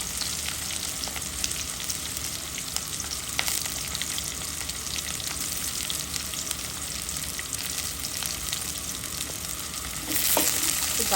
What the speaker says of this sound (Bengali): রসুন কুচি দিয়ে দিলাম, পেঁয়াজ কাঁচামরিচ ফালি দিয়ে দিলাম,